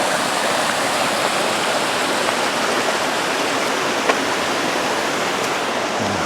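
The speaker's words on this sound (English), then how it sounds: "That's where the waterfall." A waterfall in the Gunnison canyon below the dam roars in a constant, dense rush of water. It is loud and close and keeps going without a break, with no voices.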